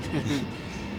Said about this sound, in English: Excuse the train, people, in case you wonder what the sound is.